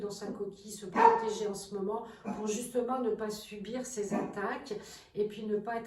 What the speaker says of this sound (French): je m'excuse, ça c'est mon chien